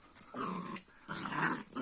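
A dog at an ornamental poultry coop growls and grumbles in two close, throaty bursts separated by a short pause.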